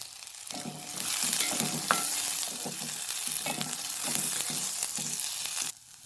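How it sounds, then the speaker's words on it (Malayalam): Copra and onion sauté in a hot pan with a steady close sizzle, broken by intermittent scraping stirs, then briefly quieting near the end; no one speaks. "ഒരു മിനിറ്റ് നമുക്ക് വഴറ്റിയാൽ മതിയാവും"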